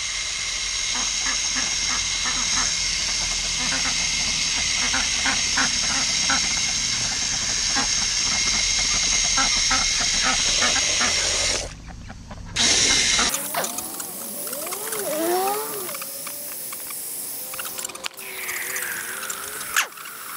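Ducks quack and honk close by in a noisy chorus at morning feeding, then the calls thin out to scattered squawks after a brief break.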